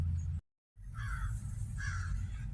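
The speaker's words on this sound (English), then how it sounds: "Well, there's the crow." A crow caws twice outdoors in a garden full of ripe grapevines, each harsh call standing out clearly over steady low wind or background rumble after a brief dropout.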